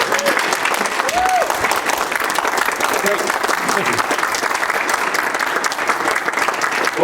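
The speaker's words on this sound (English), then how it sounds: "I'm glad you're at least standing and applauding now" Sustained, dense applause from a large audience welcoming a speaker to the stage, steady and loud throughout, with someone briefly saying thanks over it.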